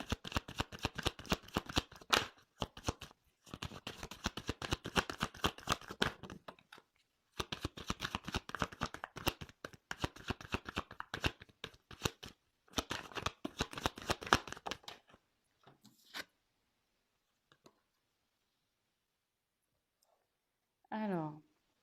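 A tarot deck is shuffled in long, rapid riffling and flicking bursts for about fifteen seconds, then cards are drawn with a few soft isolated taps and slides amid near silence.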